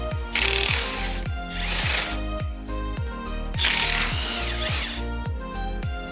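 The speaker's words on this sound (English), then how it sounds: "use 2 19mm wrenches or ratchets, whatever you prefer, and take out the 2 bolts" A 19mm ratchet clicks steadily in quick repeated bursts as strut bolts are loosened on a car's steering knuckle, the mechanical pawl chatter loud and close with no voices.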